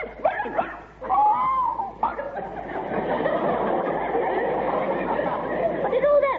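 A small dog from an English radio comedy yips and whimpers up close in short bursts, then keeps up a busy mix of yaps and whines, over a low background murmur.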